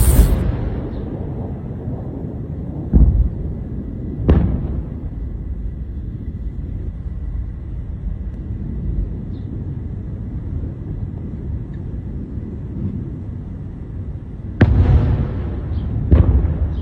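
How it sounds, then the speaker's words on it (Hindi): Missile launches and blasts over Iran come through as a steady, distant roar with several sudden booming bursts, one near the start, a couple in the middle and a cluster toward the end. "मिसाइल लॉन्च के बाद ईरान का जो मंजर था आसमान में देखिए।"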